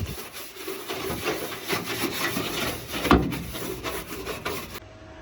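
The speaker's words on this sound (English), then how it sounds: "We're gonna go ahead and scrub it out." A brush scrubs a degreaser-soaked engine bay, giving steady back-and-forth rubbing and rasping strokes, close and moderately loud, with one sharper knock partway through.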